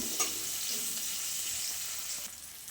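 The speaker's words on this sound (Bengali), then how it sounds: "আমি এখানে পেঁয়াজ করছি লঙ্কা ভেজে নেব" Onion and chili frying in a pan, a steady close sizzle with faint stirring, no talk.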